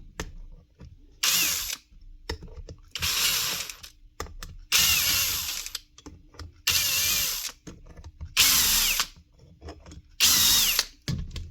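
A power tool removes countersunk bolts from the gear rail of a magnetic drill, running in six loud ratcheting bursts of about a second each, separated by short pauses of quiet clicks and handling noise.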